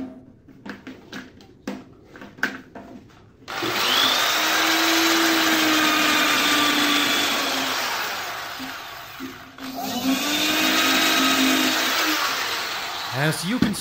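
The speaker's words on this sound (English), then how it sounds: "we will use the drill, that drill here," An electric drill runs on 220 V power from a 40 W solar panel through an inverter, whining loudly in two sustained bursts separated by a brief stop, with brief handling noises just before it starts.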